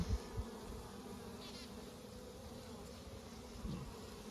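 Honeybees at an open hive frame make a faint, steady buzzing drone, with a few soft low bumps near the start and again toward the end.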